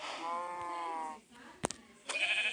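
A sheep bleats close by in a long wavering cry on a farm, followed by a brief knock and another shorter bleat.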